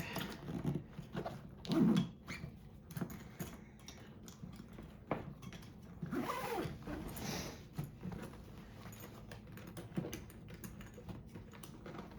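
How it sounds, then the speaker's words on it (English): A dance bag's zipper is pulled shut among rustling and soft handling noises, a few brief clattery bursts standing out, close and fairly quiet with no talking. "And then zip up."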